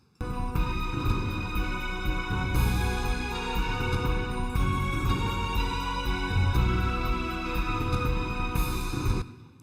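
Hollywood soundtrack-style music generated with Ujam software plays loud and full, with sustained orchestral-like layers, a steady beat and melody running continuously until a sudden stop.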